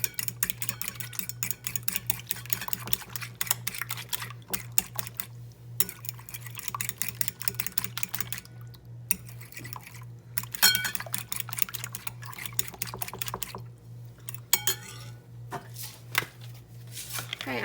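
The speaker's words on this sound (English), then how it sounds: "I've got 2 eggs. I'm just going to mix them up." Two eggs are whisked in a bowl, giving a fast, continuous run of light clicking and tapping strokes with a steady hum underneath and brief pauses between bursts.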